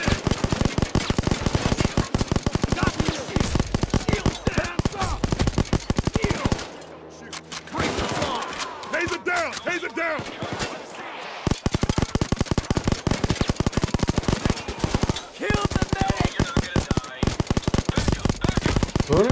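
Heavy automatic gunfire in the video game Payday 2 hitting the player during a bank-car robbery, dense rapid bursts of shots nearly continuous, with a brief lull midway before the barrage resumes loudly.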